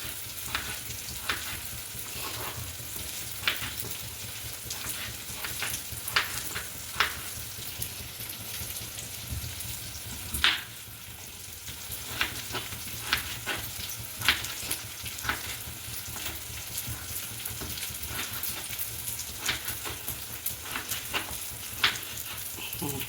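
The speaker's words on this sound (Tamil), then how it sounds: "இப்போ வெங்காயம் வதங்கிடுச்சு. வெங்காயம் வந்துட்டு நல்லா வதங்கிடுச்சு." Onions sautéing in a pan for kara kuzhambu, a steady sizzle with scattered crackles and soft stirring clicks throughout, moderately close with no talking.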